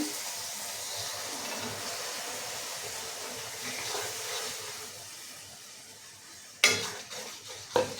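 Masala spices tipped into a hot pan for jackfruit curry, with a steady soft sizzle and a couple of sharp metallic clinks of a utensil against the pan near the end.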